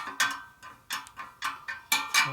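Spoke wrench turning spokes loose on a 1972 Harley-Davidson XL Sportster wheel, a series of close metallic clicks and creaks in irregular bursts, about seven short ratcheting pulses with quiet gaps.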